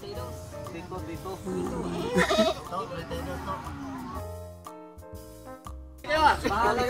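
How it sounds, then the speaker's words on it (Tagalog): Goat bleats ring out repeatedly over a busy crowd of voices and chatter at a livestock auction, with a louder burst of bleating near the end. "Meron ng kambing si Kabiyahe"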